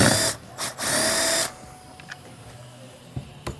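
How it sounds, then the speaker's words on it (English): Power drill backing out screws from a MODZ Evolution Classic seat cover, close and loud, in three short whirring bursts followed by faint clicks and handling noises. "let's go ahead and just start off by taking these screws out."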